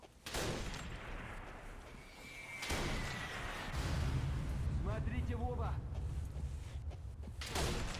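Sniper rifle shots in Sniper Elite V2 Remastered: a few sharp, heavy cracks spaced several seconds apart, with a rumbling game ambience and a voice talking in between.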